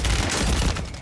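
Gunfire in the Call of Duty Warzone video game, a dense, loud burst of shots and booming reports filling the whole brief moment.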